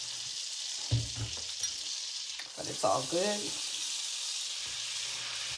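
Mushrooms frying in butter and olive oil for a garlic pasta sizzle steadily in the pan, with a few stirring clatters and a brief spoken remark over the frying.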